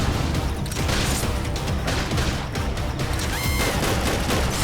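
Gunfire in the video game Xenoblade Chronicles X, a dense continuous barrage of shots and explosive crashes mixed with battle effects, loud and unbroken throughout.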